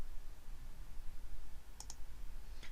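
A computer mouse gives a few faint, quick clicks, two close together and then one more a moment later, over a low steady hum in a quiet room.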